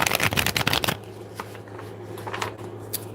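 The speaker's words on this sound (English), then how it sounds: "All right, let's shuffle." Tarot cards shuffled by hand: a dense, fast riffle of crisp card flicks for about a second, then softer, scattered card slides and taps up close.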